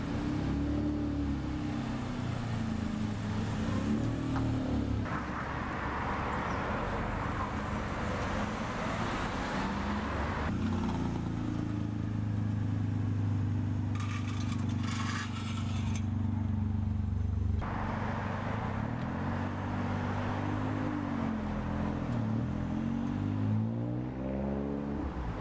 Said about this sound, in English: Driving the car for the first time. It's noisy because the window's open